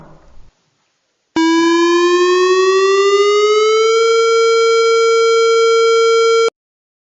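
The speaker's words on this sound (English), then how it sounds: "The second one is the fire evacuation." A wildfire evacuation siren sounds as a single loud electronic tone lasting about five seconds, its pitch rising gradually and then holding steady before cutting off abruptly.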